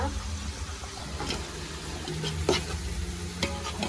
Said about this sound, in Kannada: ಈ ಮಸಾಲೆ ಎಲ್ಲ ಫ್ರೈ ಆಗಿ ಎಣ್ಣೆ ಬಿಡುತ್ತೆ.